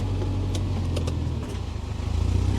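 A Subaru Legacy Outback that seems not to run quite right idles steadily, with a low engine drone and a faint rhythmic pulse, close and continuous.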